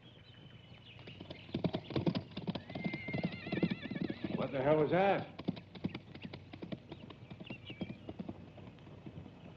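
Horse hooves clip-clop in a quick gallop while a horse whinnies sharply midway; a voice speaks over the commotion.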